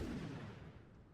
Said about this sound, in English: Oh, the muzzle blast on those things.